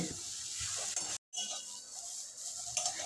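Fig bharta dry-frying in a wok over a full gas flame, stirred steadily with a spatula, giving a continuous close scraping sizzle that breaks off for a moment of silence near the middle.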